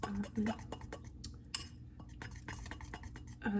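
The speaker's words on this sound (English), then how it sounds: "So I'm just mixing it with a fork." A fork stirring gluten-free vegan donut batter in a bowl, producing quick repeated scraping clinks and taps against the bowl at close range, with soft speech-like sounds in the background.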